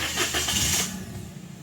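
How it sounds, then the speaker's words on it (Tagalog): A Toyota Wigo engine cranks and catches in a short burst, a loud start that settles into a lower, steady idle hum. "switch off ko itong makina. Tapos, pa-start ko ulit yan."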